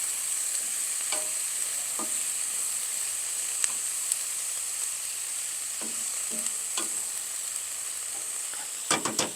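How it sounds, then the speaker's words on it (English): Sausage and vegetables sizzle in a single pan with a constant hiss of frying, while a utensil scrapes and clicks through the food in occasional close stirring strokes. "And I want to give this a stir."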